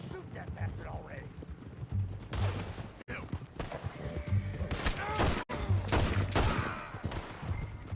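Gunfire in the Red Dead Redemption 2 video game, with several sharp, loud shots and bursts in quick succession amid horse hooves and mechanical clatter.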